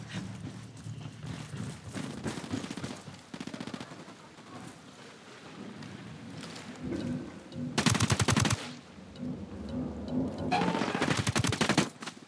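Automatic gunfire in the tactical shooter video game Ghost Recon Wildlands: rapid, sustained bursts that grow louder and denser in two long volleys near the end, over continuous battle noise.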